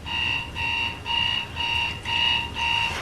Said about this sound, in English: the next alarm clock would go off